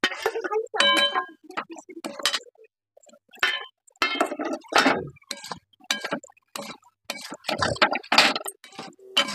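Cauliflower is stir-fried in a spiced masala for a cauliflower and katla fish curry, with a spatula clinking and scraping against the pan in irregular bursts, close and fairly loud, separated by brief pauses.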